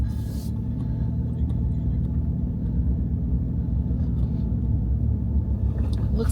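A car rolling slowly over a bumpy, uneven rural dirt road in Arizona canyon country, giving a low continuous rumble of tyres and engine at a steady level, heard close from inside the vehicle without talk.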